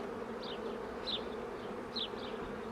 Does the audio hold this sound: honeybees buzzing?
yes